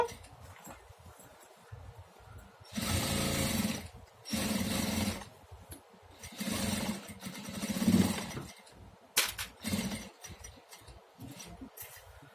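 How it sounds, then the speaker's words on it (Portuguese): Sewing machine runs in several bursts of steady buzzing whir, pausing between runs, as a safety seam is stitched on a school backpack; fairly quiet and close, no talking. "eu vou fazer uma costura de segurança"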